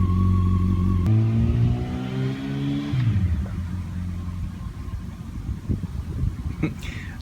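A Yamaha FJR1300 motorcycle's engine revs and then drops away as the rider brakes hard on the rear to trigger the ABS, followed by clattering road noise and a brief squeal near the end.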